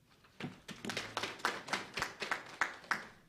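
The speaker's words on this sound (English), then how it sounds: "I say we should clap for them." A handful of attendees at a company annual general meeting clap, a sparse series of distinct, fairly close claps building into a short irregular rhythm.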